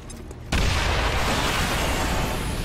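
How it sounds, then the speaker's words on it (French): A grenade going off in XCOM 2, a sudden loud boom after half a second of near quiet, followed by a sustained crackling, rumbling roar that fades slowly, no talk over it. "le coup de l'explosion"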